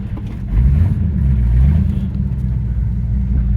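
A 1966 Ford Fairlane GT 390 engine running while the car backs up, a loud steady low rumble that swells slightly near the start and holds throughout.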